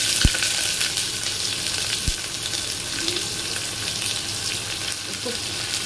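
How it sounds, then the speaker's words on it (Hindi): Onion frying in a pan for matar chaat, a steady broadband sizzle that holds at an even level throughout, with a couple of brief clicks of a utensil against the pan. "इसको फ्राई करेंगे, ऑनियन को ब्राउन होने तक फ्राई करेंगे।"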